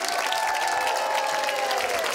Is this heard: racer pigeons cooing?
no